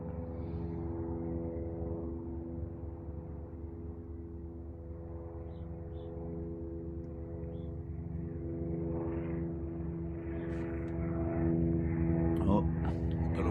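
A police helicopter drones overhead, a steady low throbbing hum that grows slightly louder toward the end, with no other sounds on top.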